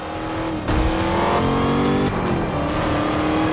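A Chevrolet Camaro race car in the Forza Motorsport 5 racing game revs hard and loud, its engine pitch climbing through gears with a brief break and a rise again, steady and close with no talk.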